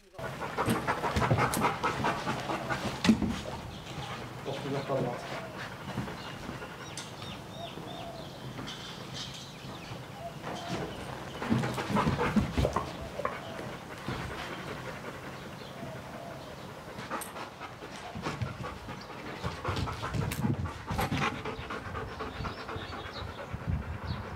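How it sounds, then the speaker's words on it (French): A trained search-and-defense dog pants steadily and rhythmically at close range for over twenty seconds while people talk nearby. "est un chien entraîné pour la recherche de personnes et la défense"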